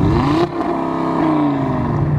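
An Audi five-cylinder engine revs loud and close, its harmonic pitch climbing then falling back and rising again in a continuous throaty rasp, with no voices.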